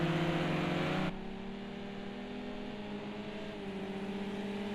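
Race cars at Donington Park circuit in a national sprint race, engine whine loud and steady for the first second, then dropping abruptly to a quieter, sustained drone as they head toward the chicane.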